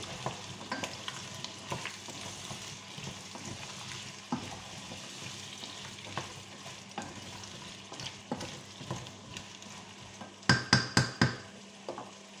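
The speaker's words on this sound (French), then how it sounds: "mes navets, mes oignons et mon ail, bien sûr. On remue." Turnips, onions and garlic stirred in a frying pan, a soft steady sizzle with scraping strokes of the spoon, ending in a run of sharp, louder knocks against the pan.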